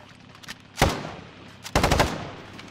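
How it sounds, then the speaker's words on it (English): Gunfire in the video game Warzone: two sharp bursts of automatic fire, the second longer and rattling, loud against a quiet background with a few faint clicks between. "There's people shooting me."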